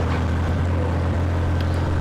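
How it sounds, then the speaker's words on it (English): Farm tractor engine running in the background near pastures, a continuous low droning hum with steady rumble and no pauses. "All the tractor noise you hear in the background"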